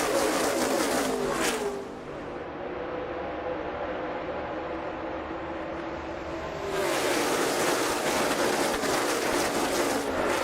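NASCAR stock cars accelerate past the green flag at a race start on an overcast day, with Jeff Gordon leading the field. A dense, continuous engine roar fills the whole clip, easing briefly in the middle before swelling back to full volume.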